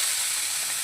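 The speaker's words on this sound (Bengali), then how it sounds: "এইভাবে আমি 3টে মাছ ভেজে নেব। ভাজা হচ্ছে" Fish rubbed with salt and turmeric frying in hot oil, a dense steady hiss and sizzle heard alone and close for under a second.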